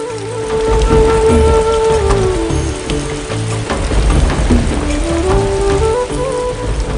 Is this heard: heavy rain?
yes